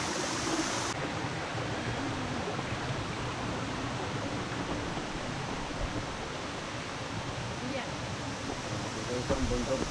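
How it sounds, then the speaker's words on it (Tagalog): Rushing water from a waterfall at Pagudpud, Ilocos Norte, a steady broadband roar of falling water over rock, constant and fairly loud throughout. "Ayan na yung falls, oh."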